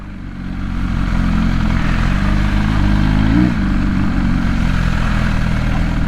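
A 2021 MV Agusta Rush motorcycle with an ECU flash tune runs its engine steadily and loudly at close range, a dense low mechanical drone that swells slightly mid-way without a clear rev climb.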